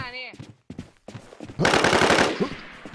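Rapid automatic gunfire in the online survival shooter Infestation, a dense burst of shots in the second half after a few short isolated sounds, with faint voices around it.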